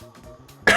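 A single short cough bursts out at the end after a quiet stretch, close to the microphone during a casual game-development livestream.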